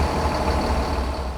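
A tour bus pulls into a roadside restaurant, its heavy diesel engine rumbling loud and close in a steady idle-like drone.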